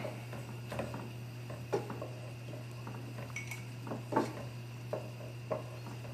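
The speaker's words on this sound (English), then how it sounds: "I'm tossing in my parsley. Get this all mixed up." A utensil stirs parsley through a pan for pork chops, making soft repeated scrapes and light clinks in an uneven rhythm over a steady low hum, with no talking.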